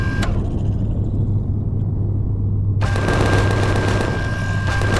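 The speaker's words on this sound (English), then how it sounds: "I am shooting Xerax in a barrel here" Rapid gunfire from weapons in the space survival game Empyrion Galactic Survival crackles over a constant low engine-like rumble, a dense, loud and continuous barrage with no talking.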